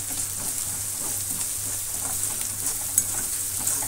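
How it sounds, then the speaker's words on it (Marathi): Idli masala with salt sautéed in a pan, giving a steady close sizzle with faint stirring and a light clink near the three-second mark, no voices. "मीठही आपल्याला परतून घ्यायचं आहे।"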